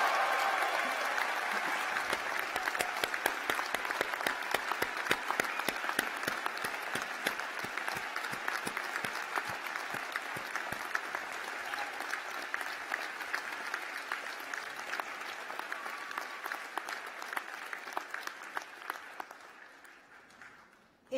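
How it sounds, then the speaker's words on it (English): Graduates applauding at a 2017 university graduation ceremony, a long, dense round of clapping filling a large hall, steady and sustained before fading out near the end. "Give yourselves a massive round of applause."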